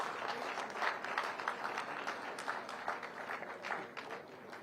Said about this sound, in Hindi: तालियां आप सबकी तरफ से।